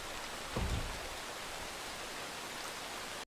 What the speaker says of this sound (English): Now it's raining in the game as well.